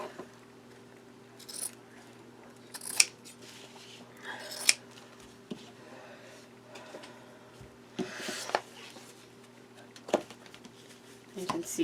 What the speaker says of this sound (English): I think I'll cut about an inch off either side too